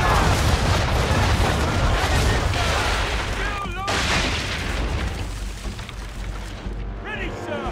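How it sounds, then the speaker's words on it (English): Ship cannons in the Assassin's Creed III video game boom in a dense broadside, a continuous rumbling barrage heard close and loud, with voices calling over the roar. "Bring her on broadside, and when all guns are on target, call fire."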